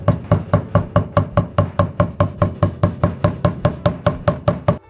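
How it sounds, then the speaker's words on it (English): A smooth-faced hammer taps steadily along the edges of a leather holster's reinforcement piece, about twenty sharp, close knocks in an even, brisk rhythm with no talking. "If you have a smooth-faced hammer, you can go ahead and knock the edges around the entire edge of the reinforcement piece."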